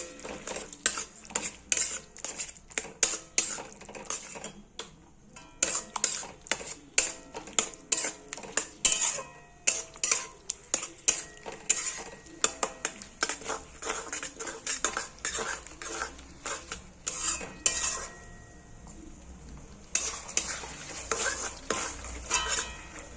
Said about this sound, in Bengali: ছানাগুলো ভালো করে মিশিয়ে দেবো